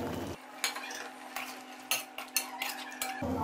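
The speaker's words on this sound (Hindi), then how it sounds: "अब मैं इसके अंदर टमाटर शामिल करूंगी।" Tomatoes go into a pan of frying chicken karahi with garlic paste, a soft sizzle under several metal utensil scrapes and stirring knocks, close and fairly quiet, no talk.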